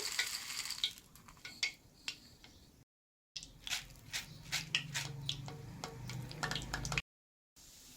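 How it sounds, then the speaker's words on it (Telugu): Roasted gram frying in oil in a pan for a poha tempering, with soft crackling sizzle and repeated light scraping and stirring taps close by, broken by two short gaps of silence. "ఇప్పుడు ఆయిల్ పోసుకోవాలి. ఇప్పుడు పుట్నాలు వేయించుకోవాలి."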